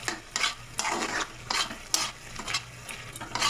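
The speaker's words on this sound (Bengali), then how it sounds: "আর ধনে পাতা দেবো, দিয়ে ভালো করে নেড়ে এটা নামিয়ে নেবো" A spoon scrapes repeatedly through pumpkin and prawn curry with coriander leaves in a pan, making rhythmic strokes about every half second over a soft sizzle.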